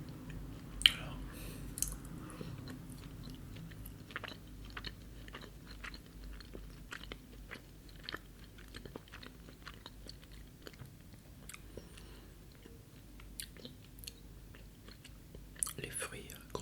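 Close, quiet chewing of a crunchy Bijou madeleine cake with fruit pieces, soft irregular bites and crunches running through the whole stretch, with a sharper bite near the start and another near the end.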